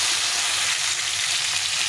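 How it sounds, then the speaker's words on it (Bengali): Hog plums (amra) frying in hot oil for pickle, a loud, dense, unbroken sizzle heard up close for a couple of seconds, with no voices. "তো এখন আমি আমড়াগুলোকে একটু তেলে ভেজে নেব।"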